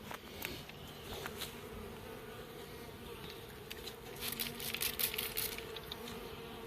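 Honeybees from a 3 lb package being installed into a hive box, a dense, continuous buzzing swarm, soft and steady with occasional louder passes of single bees near by.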